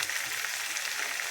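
Cumin and mustard seeds crackling in hot oil with ginger-garlic paste and onion, a steady bright hiss of frying with fine popping throughout, close and continuous.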